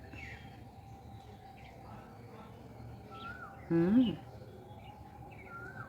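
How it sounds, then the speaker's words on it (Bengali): An Asian koel calls at dusk in a home garden after spring rain. Its faint, distant repeated calls sit over a quiet background, and a person briefly murmurs once. "অন্ধকার অন্ধকার হয়ে এসছে আবার কোকিল ডাকছে"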